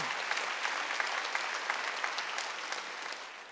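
A church congregation breaks into steady, fairly quiet applause during a service, an even patter of many hands that eases slightly toward the end.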